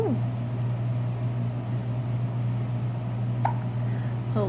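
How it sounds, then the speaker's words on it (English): A small child hiccuping indoors, with about three short sharp hiccups spaced a second or more apart over a steady humming background. "Are you going to tell me about those hiccups?"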